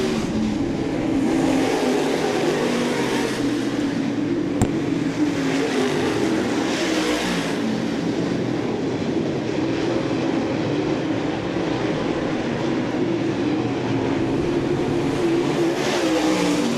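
Dirt track race cars roar around the oval at Southern Ontario Motor Speedway, a steady, loud blend of engines droning continuously with a brief sharp click partway through and no talk.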